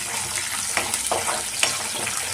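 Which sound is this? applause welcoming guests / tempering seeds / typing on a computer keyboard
tempering seeds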